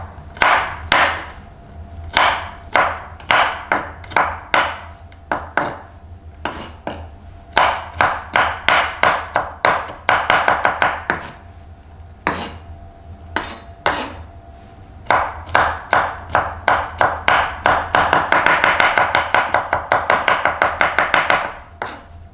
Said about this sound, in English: There are some techniques on how to chop garlic.